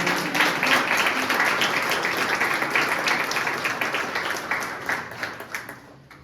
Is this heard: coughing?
no